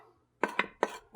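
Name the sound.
scooping bacon, onion and cheese mixture out of pot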